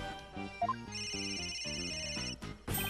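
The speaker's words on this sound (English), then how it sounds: "Where's that ringing coming from?" A video game cell phone ringtone in Ace Attorney: Dual Destinies plays in a repeating pattern of notes, clear and close, with a synthetic tone layered over it.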